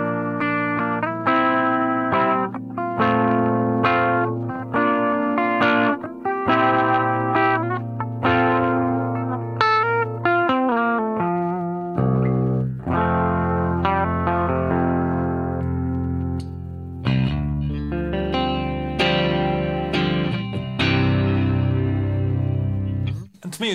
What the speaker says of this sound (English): a chorus always sounds better with single coil pickups